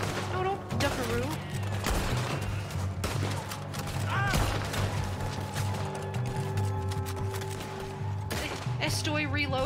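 Rapid gunfire crackles through a Red Dead Redemption II shootout, a dense fusillade of repeated shots at close range, with voices talking over the fighting.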